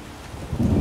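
Rain falling in The Witcher video game, a steady rushing hiss that swells louder toward the end, with a low rumble like distant thunder and no voices.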